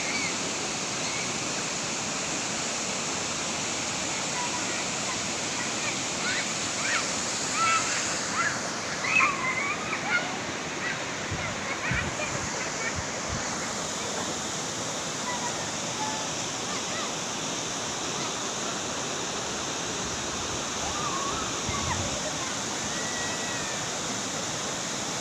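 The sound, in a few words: rushing river water, Sungai Tanah Jawa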